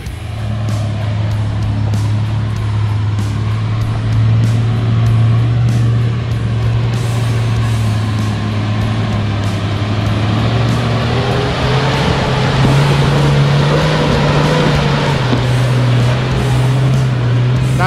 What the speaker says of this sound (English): No problem at all up the hard line for the fully solid axle 80 series.